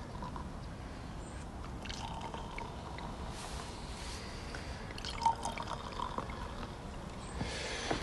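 Sparkling wine, a Hampshire blend of Chardonnay, Meunier and Pinot Noir, is poured into a glass in a soft, continuous trickle with faint fizzing and a couple of small clinks near the end.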